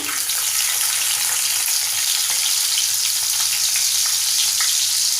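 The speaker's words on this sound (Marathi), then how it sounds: "तेल बघा आपलं छान गरम झालं आहे आपण त्यामध्ये तेजपत्त्याची पानं घालूया इथे सोलून ठेचून घेतलेला लसूण घेतला चार पाच पाकळ्या ते घालूया" Crushed garlic cloves and bay leaves fry in hot oil for a Malvani-style chicken gravy, making a loud, dense, continuous sizzle close by with no talking.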